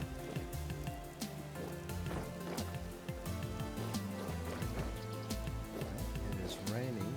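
Steady rain falling in the survival game Vintage Story, a continuous soft hiss of drops on surfaces running underneath layered game music.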